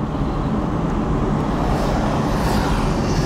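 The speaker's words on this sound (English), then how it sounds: "You can hear all the other cars around us making all these sounds." Surrounding cars create a dense, steady roar of road traffic, heard from inside a quiet electric Mini conversion as a continuous wash of rumble and hiss.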